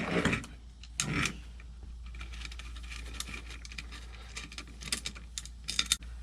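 Metal parts of a folding stationary exercise bike clink and rattle as a piece is taken off, giving scattered light clicks and jangles with a few louder clanks, close by and with no talking.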